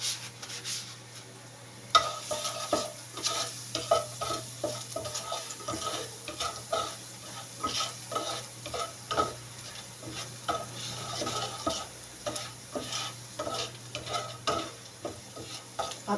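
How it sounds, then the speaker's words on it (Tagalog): Garlic sautéing in a pan for fried rice, a soft sizzle under repeated scraping and stirring strokes, close and fairly quiet, with clinks of the utensil against the pan. "pa-brownin lang natin yung ating bawang guys para masarap siya"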